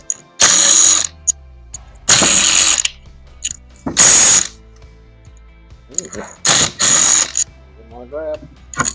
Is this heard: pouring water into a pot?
no